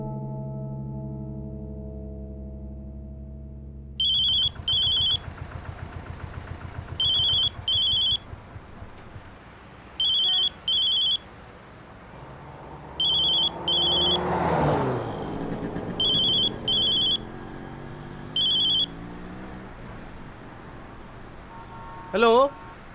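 A telephone rings in repeated short double bursts, loud and close, over a rumbling background with a passing vehicle, before a man answers.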